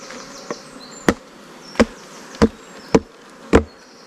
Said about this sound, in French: c'est rempli d'abeilles là-dedans